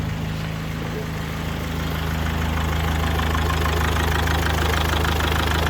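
A Mazda 6 with a freshly replaced engine idles steadily and evenly, a close, continuous mechanical hum with a faint ticking rhythm and no voices.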